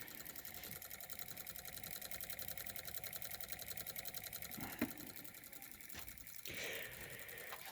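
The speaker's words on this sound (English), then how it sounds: "I forgot how much I like this Newman motor" A 3D printed Newman motor runs with a steady buzzing, rapidly pulsing hum, fairly faint, with a couple of brief clicks and a short hiss near the end.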